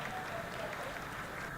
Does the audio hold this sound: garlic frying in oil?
no